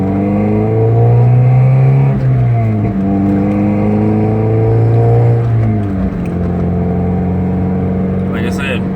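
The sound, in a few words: Mazda Miata MX5 engine accelerating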